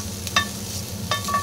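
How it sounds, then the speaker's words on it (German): Diced bacon slowly frying in a pan gives a soft continuous sizzle with a few brief scraping clinks of a utensil stirring, close and quiet, no talk. "Die Speckwürfel werden jetzt langsam in der Pfanne erhitzt."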